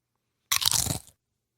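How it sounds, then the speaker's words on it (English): A single crisp crunch of a Pringles potato chip being bitten, loud and close, lasting about half a second against silence. "Good crunch."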